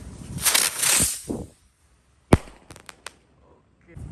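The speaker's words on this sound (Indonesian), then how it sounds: "Selanjutnya kita nyalakan mercon Circle Beach." A Circle Beach firecracker goes off outdoors with hissing, crackling bursts, then a sharp loud bang after a short pause. A few smaller pops and snaps follow.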